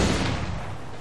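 Cannon fire from a sailing ship during a naval battle in Assassin's Creed 4 Black Flag, a loud booming blast that rumbles and decays over about a second with no talk over it.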